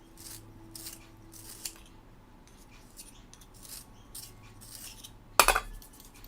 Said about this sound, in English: And I need to sharpen this pencil.